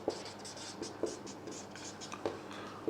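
Marker or chalk writing on a classroom board during a chemistry lecture, a steady scratchy scrawl with short strokes and taps repeating across the clip, close and fairly clear with no speech.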